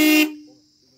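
A loud aftermarket horn on a Bajaj Pulsar motorcycle gives one sharp blast that cuts off quickly, leaving a faint lingering tone.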